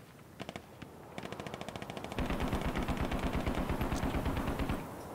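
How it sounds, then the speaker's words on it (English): Enemy BRDM vehicle machine-gun fire in the military shooter game Squad: rapid bursts of distant gunshots, a few spaced rounds at first, then a faster, louder sustained burst that cuts off near the end. "You are under enemy vehicle fire."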